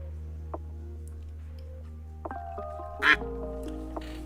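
A single loud duck quack rings out during a streamed duck race, standing alone over a steady low hum with a few faint clicks around it.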